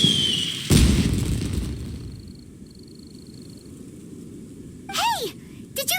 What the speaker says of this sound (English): Did you hear that explosion? Maybe it was fireworks.